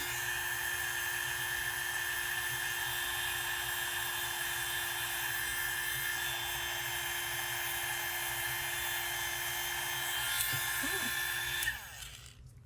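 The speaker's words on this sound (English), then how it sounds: "Just be careful with your heat gun." A heat gun blows steadily and loudly over embossed stencil card, a constant whooshing hiss with a tonal hum that holds for about eleven seconds, then cuts off abruptly near the end.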